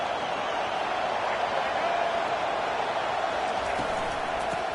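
A steady, dense roar of a stadium crowd fills the College Football 25 video game, a continuous wash of noise holding level throughout with no distinct voices.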